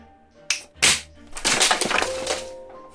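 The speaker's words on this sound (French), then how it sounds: "c'est le bruit des cartes dans le plafond" Playing cards in a magic trick fly up and slam into a ceiling, two sharp bangs followed by a dense burst of fluttering, rattling card impacts, loud and close.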